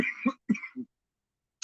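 Close, throaty coughs from one person come in a quick cluster of three or four, then silence and a faint final sound.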